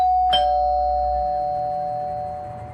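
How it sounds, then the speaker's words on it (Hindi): A flat's doorbell rings once late at night, a single clear electronic chime that sustains as one steady tone and slowly fades, heard alone in a quiet room. "करीब 2:10 पर फ्लैट की बेल बजती है।"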